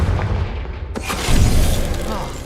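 A Confringo spell fires in Hogwarts Legacy, producing a loud booming explosion with a sharp crack followed by a rumbling burst over continuous game noise.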